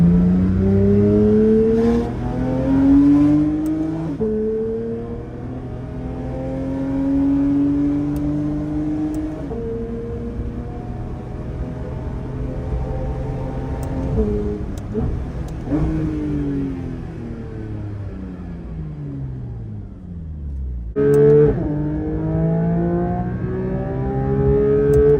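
Porsche 992 GT3 engine pulling hard through the gears on a drive, its loud, steady howl rising in pitch and then dropping back at each of several paddle upshifts, with no talking.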